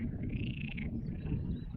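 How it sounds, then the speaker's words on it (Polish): Frogs croak steadily from small ponds behind bushes along a rural walking trail in Spain, a dense low chorus close by with a thin higher trill drifting above it. "Słyszycie żaby?"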